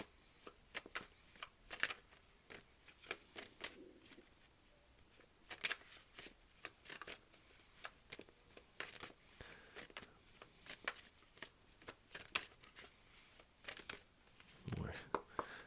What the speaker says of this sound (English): Please give us 3 cards for what is on Leo's path of magic and manifestation